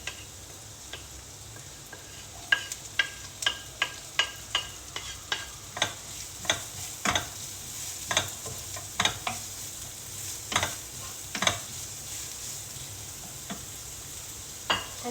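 Onions sautéing in a pan for pancit, a soft steady sizzle broken by a regular series of sharp spatula taps and scrapes against the pan, close and fairly quiet.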